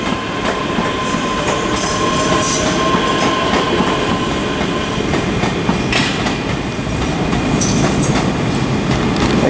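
A ScotRail class 385 electric train runs at Glasgow Queen Street station, a loud, steady rumble with wheel clatter and occasional squeals throughout, no voices.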